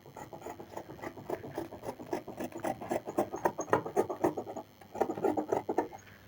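Scissors cut through blouse fabric close up in a quick run of rasping, crunching snips, steady and fairly quiet with a short pause near the end.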